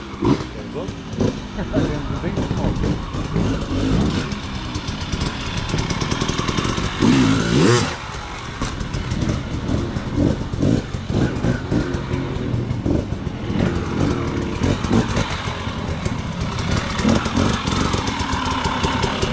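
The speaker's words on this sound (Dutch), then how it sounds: "luisteren naar het gas geven" A hard enduro motorcycle engine runs loud and close on an extreme enduro course, revving and rising and falling with the throttle for a long stretch, with a voice talking over it.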